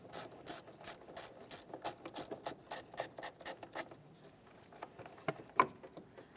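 A ratchet wrench loosening an 8mm battery terminal bolt on a 2002-2009 Chevrolet Trailblazer, clicking in a quick steady series of close, fairly quiet strokes, then a few slower scattered clicks and a metallic tap.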